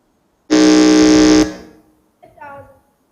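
Quiz contest buzzer pressed by a contestant, one loud, harsh, sustained electronic tone lasting about a second and cutting off abruptly, followed by brief talk.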